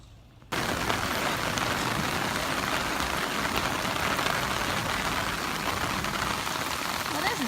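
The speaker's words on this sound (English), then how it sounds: "It's raining really hard." Heavy rain pours down during Hurricane Harvey, with a dense, steady roar of drops that starts abruptly and holds loud and unbroken throughout.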